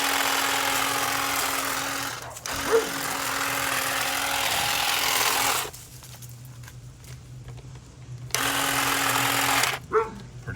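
A Saker 20V cordless hedge trimmer cuts a shrub beside a house, its buzzing blades running steadily in two long bursts separated by a quiet pause, with a few snips and rustles of branches.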